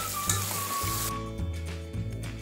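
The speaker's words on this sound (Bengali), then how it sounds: "এবার আলু ফুলকপি মিডিয়াম ফ্লেমে রেখে একটু ভেজে নিচ্ছি" Potatoes and cauliflower fry together in oil over a medium flame, giving a soft, steady sizzle that stays faint and close throughout, with clanks and stirring noises at intervals.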